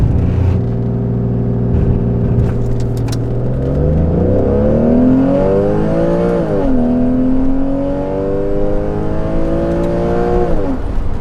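A Porsche 996 accelerates hard on a timed run, its engine note climbing steeply through the gears with brief dips at each shift, loud and close throughout.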